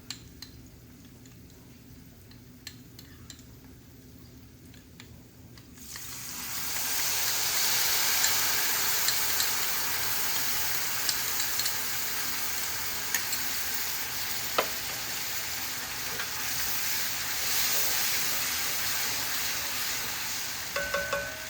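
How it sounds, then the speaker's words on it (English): Tamarind water hits a hot pan while cooking temple-style puliyodharai tamarind rice. After a few quiet seconds, a loud, sustained hiss and sizzle bursts up and carries on steadily, with occasional small clicks from the pan. "now I'm going to add tamarind"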